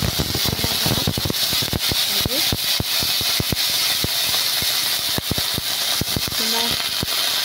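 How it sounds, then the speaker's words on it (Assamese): Sliced drumstick and curry ingredients sizzle and crackle in hot refined oil in a wok, a dense steady frying hiss with scattered pops throughout, close and loud. "এইটো কেৰাহীত পাতি দিম মই ছজনা চচ।"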